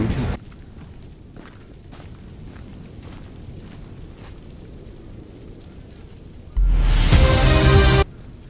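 Faint, evenly spaced video game footsteps over a steady low hum, then a loud burst of noise like a blast or rush near the end.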